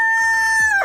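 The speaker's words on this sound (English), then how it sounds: "This is my rooster." A pet rooster gives one short, loud crow close by. The tone is clear and piercing and rises slightly before it cuts off.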